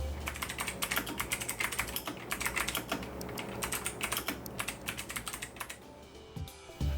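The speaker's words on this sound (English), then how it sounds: "Mechanical keyboards all have a little bit of click." Fast, steady typing on an optical mechanical keyboard with red-style switches, a close run of light, slightly clacky keystrokes in quick rhythm that briefly pauses near the end.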